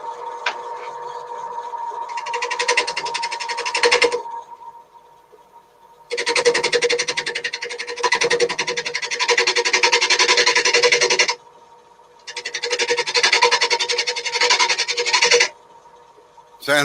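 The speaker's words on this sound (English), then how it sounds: "Sounds like that chisel needs sharpening." Lathe chisel cutting a figured red gum platter, a loud harsh rasping scrape in three long bursts separated by short pauses, with a steady motor hum continuing underneath.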